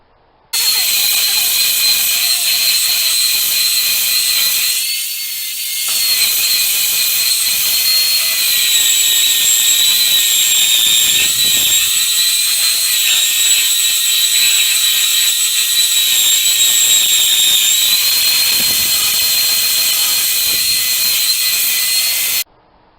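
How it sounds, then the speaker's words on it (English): A belt sander working across a wooden dining tabletop, a loud continuous high whine with a brief dip and restart, close and steady with no talking. "Once I've taken off the bulk of the material with my belt sander"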